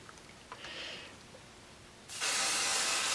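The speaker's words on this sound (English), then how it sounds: "I'm going to just spray" Adhesive sprays from an aerosol can onto foam for a handbag in one sudden, continuous, close hiss after faint handling sounds, with no talking.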